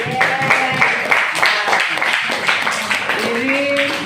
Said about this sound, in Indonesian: Tepuk kelompok 1